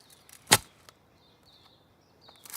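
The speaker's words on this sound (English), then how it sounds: "a shovel. It is digging." A shovel digs into the ground, a single sharp scraping chunk near the start, then another scrape building at the end over faint background hiss.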